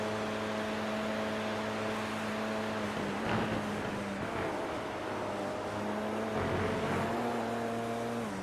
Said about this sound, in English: You can hear that car skidding as he comes out of the bus stop.